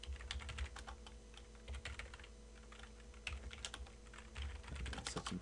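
Typing on a computer keyboard during HTML and CSS coding, a steady stream of quiet, quick key clicks with brief pauses, heard alone without talk.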